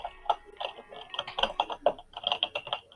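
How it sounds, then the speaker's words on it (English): Rapid, uneven clicking of computer keys during an online tabletop role-playing session, close to the microphone, with a steady run of light taps and no voices. "So is that your keyboard we're hearing?"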